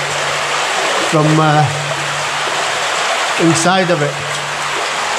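A waterfall pours in a steady, broadband rush close by, with someone speaking briefly twice over the roar.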